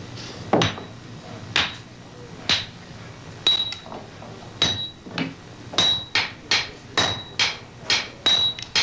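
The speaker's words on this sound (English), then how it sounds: "The smith folds the hot billet over itself, heating, adding flux, cooling and hammering" Smith hammering a hot folded steel billet for a samurai sword, a series of sharp ringing metallic blows that start slow and sparse, then quicken into a steady rhythmic run, loud and close.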